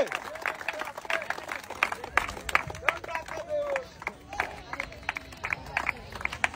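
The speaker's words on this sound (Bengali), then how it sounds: "সবাই আমার এই ভাইয়ের জন্য জোরে তালি হবে" A crowd claps and cheers for a contestant at an outdoor village game where players cross an oiled banana trunk. The applause is scattered, with people talking over it and a voice on a loudspeaker calling out.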